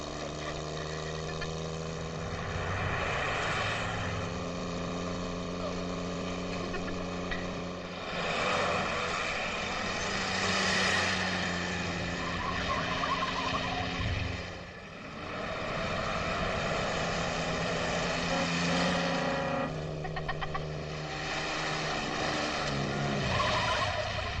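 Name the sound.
propeller airplane engine in flight, from a film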